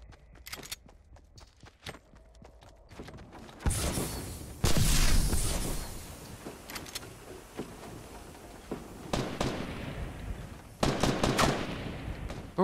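Bursts of automatic gunfire ring out in the Fortnite video game: loud, rapid rattles and single shots come in several clusters over a quieter background, with no talk over them.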